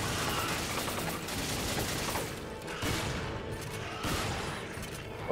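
Gunfire in the video game Resident Evil 5, a dense continuous fusillade of rapid shots with occasional heavier booms, steady and moderately loud with no talk.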